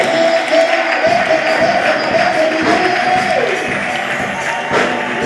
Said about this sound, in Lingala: Est-ce qu'on peut acclamer fort pour l'Éternel?